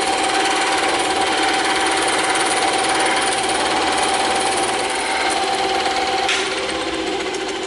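A cutting machine slicing through EVA foam, a loud continuous buzzing drone with steady high-pitched whine, unbroken for the whole stretch and close to the microphone.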